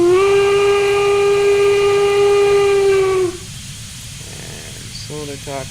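Steam locomotive whistle in Train Simulator Classic, one long loud steady blast lasting about three seconds and then cutting off, followed by a low rumble and a brief short chuffing burst near the end.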